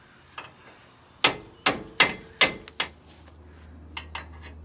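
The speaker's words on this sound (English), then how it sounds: "Gentle taps." Several gentle hammer taps during a Bilstein 6112 shock install on a Toyota Tundra: five sharp, close metallic-wood knocks in quick succession, then two fainter taps after a pause.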